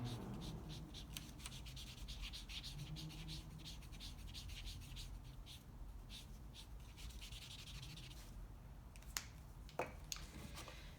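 A crayon or marker rubs back and forth across paper, filling in a yellow triangle for a paper turkey's beak: a steady close scratchy shading with a few sharp taps near the end.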